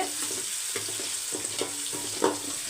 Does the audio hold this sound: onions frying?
yes